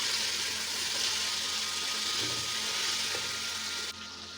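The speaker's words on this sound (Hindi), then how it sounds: "इसको मैं मीडियम फ्लेम पे जो है फ्राई कर रही हूँ, लहसुन और अदरक का पेस्ट डालकर।" Mutton frying over a medium flame with garlic and ginger paste for Pakistani mutton pulao, a steady, close hiss and crackle of oil that holds evenly before dropping slightly in level near the end.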